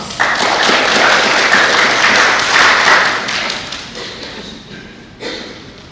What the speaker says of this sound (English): So one more time, give him our applause